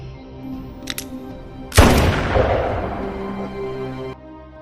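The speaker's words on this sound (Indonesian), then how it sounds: "Samuel akhirnya mengangkat pistol itu dan menembakkan peluru ke kepalanya" A pistol fires a single loud, sharp shot in a film scene, its blast cracking out and decaying into a long rumbling tail over a steady musical score.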